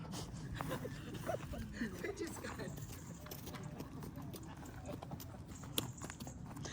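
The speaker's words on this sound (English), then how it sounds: "don't stand behind Stephen the horse because he doesn't know you're there" Horse hooves clip-clop on hard ground while the horse is being saddled and tacked up, steady muffled steps under continuous background noise and people talking nearby.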